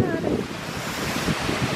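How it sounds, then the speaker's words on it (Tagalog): Strong wind roars and buffets the microphone in a constant, loud rush, with a low rumble like surf beneath it. "Sobrang lakas ng hangin."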